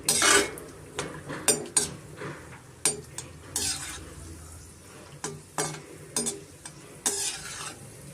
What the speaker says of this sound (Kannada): ನಾನು ದ್ರಾಕ್ಷಿ ಒಂದು ಸೇರಿಸ್ಕೊತಾ ಇದ್ದೀನಿ.